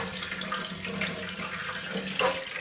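Rainwater flowing into a cistern, a steady, full splashing rush with no break, fairly loud and close.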